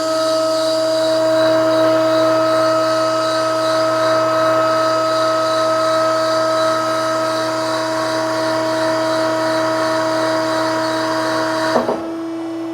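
A mandrel tube bender bending a custom Corvette frame rail gives off a loud, steady hydraulic whine with a fixed tonal hum, running unbroken until a sharp clunk near the end as it stops.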